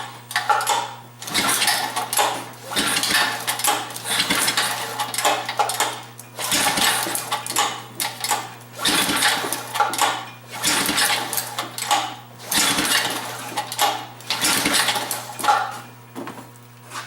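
A small engine on a motorized StingRay bicycle, carburetor primed with no choke, starting cold and idling: a steady low drone with a constant hum underneath, broken by brief dips and surges as it runs unevenly.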